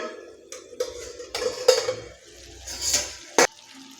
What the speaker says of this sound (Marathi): आता याच्यावरचं झाकण काढायचं आहे